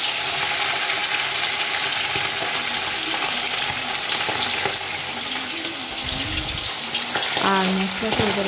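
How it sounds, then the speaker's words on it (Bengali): A piece of rohu fish sizzles loudly in hot oil in a home kitchen, a constant close crackle with brief clattering of utensils near the end. "মাছটা ভাজা হয়ে গেছে, এবার মাছটাকে উল্টে নিচ্ছি"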